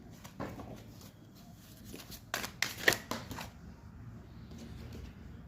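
Tarot cards being shuffled and handled, a run of soft papery riffles and flicks with a cluster of sharper snaps in the middle, close and fairly quiet with no talking.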